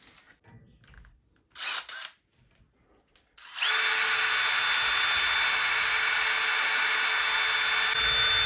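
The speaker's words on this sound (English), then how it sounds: "Okay, I drill it out." A power drill bores a hole through the leg of a TSC rabbit cage, starting after a few quiet handling sounds and then whining loudly and steadily, close up, until the end.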